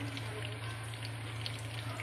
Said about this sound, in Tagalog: ito na po, piniprito ko na